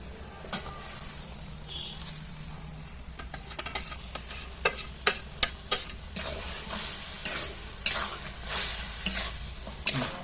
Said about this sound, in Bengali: এবার সব মশলা অ্যাড করব এই পেঁয়াজের মধ্যে।